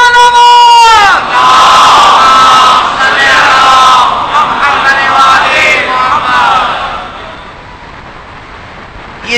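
A large congregation at a religious majlis loudly recites salawat in unison, a sustained roaring chant of many voices that follows a single voice's brief call, then gradually fades away.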